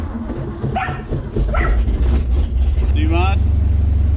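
A car engine with a knocking rebuilt engine starts and runs with a low steady rumble, while a dog barks and someone speaks briefly nearby.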